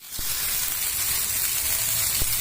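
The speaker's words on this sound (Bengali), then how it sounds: "এবার এগুলো সবগুলোকে আমি সুন্দর করে একটু ভালো করে নাড়াচাড়া করে নিচ্ছি সমস্ত মশলার সঙ্গে" Vegetables for a mourola fish shukto fry in a pan with spices, a dense, continuous hiss of sizzling oil broken by a couple of sharp knocks as they are stirred.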